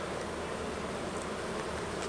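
Honey bees swarm and buzz around an open hive and feeder during an April colony inspection in Minnesota, a steady, dense hum that holds without a break at moderate level.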